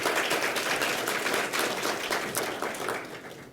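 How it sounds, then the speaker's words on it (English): A lecture audience at a talk on tongue, lip and buccal ties gives therapists a dense round of applause that holds steady before slowly fading out. "a big round of applause for all the work that you guys do"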